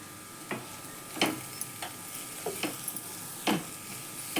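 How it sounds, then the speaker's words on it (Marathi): Cabbage and chana dal vegetable stirred in a pan, a series of quiet, irregular spoon scrapes and taps over a faint low sizzle. "मध्ये एकदा हलवून घेते भाजी"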